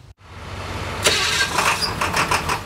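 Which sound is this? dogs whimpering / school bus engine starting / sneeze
school bus engine starting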